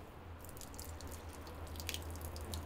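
Water drains and drips out of a shower hose pipe at an outdoor water hub, a steady close trickle with scattered faint splashy drips throughout and no talking.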